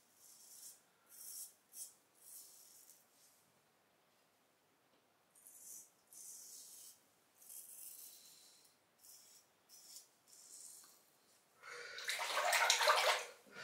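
Tap water running to rinse a razor, sounding in soft intermittent bursts of hiss and splash, then a louder, steadier gush at the end, with no talk.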